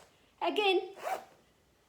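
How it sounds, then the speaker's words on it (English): A zipper on a vest being zipped in one quick pull, close and clear, with a voice speaking briefly around it. "Let's listen to the sound of the zip."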